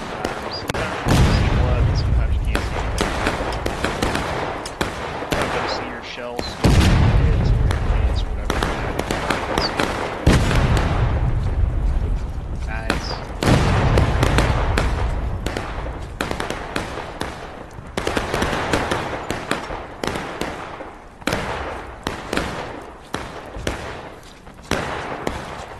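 Civil War artillery cannons firing in the War of Rights multiplayer battle game, repeated heavy booms every few seconds amid distant rifle crackle and battlefield noise, with voices talking over it.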